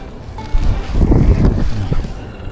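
Steady wind blows across the microphone, with a low rumbling roar and gusty surges throughout.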